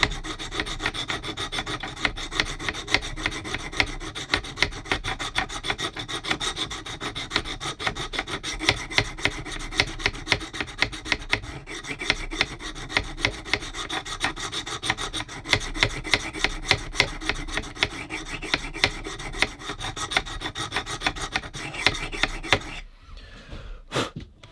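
Knife edge drawn repeatedly across a 100 grit stone on a Wicked Edge sharpener, giving close rapid raspy scraping strokes in a steady rhythm for over twenty seconds before stopping abruptly.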